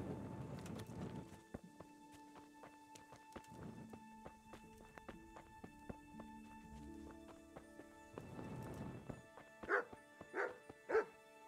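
Dog barking in the medieval video game Kingdom Come: Deliverance, with several short bursts near the start, one in the middle and a louder cluster near the end, separated by quieter ambient game sound.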